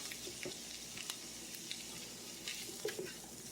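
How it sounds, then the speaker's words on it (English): Mushrooms sautéing in a pan for one-pan rasta pasta, a steady soft hiss with a few light taps and scrapes of a utensil, quiet and close. "See how long these take to saute. So I'm going to put these in."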